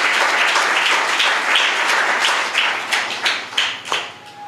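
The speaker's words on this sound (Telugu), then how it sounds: "అబ్బా చప్పట్లు కొట్టండి ఒకసారి" Audience applause during a Telugu Christian sermon, a dense wash of many hands clapping together, steady and loud at first, then thinning into a few separate sharper claps toward the end.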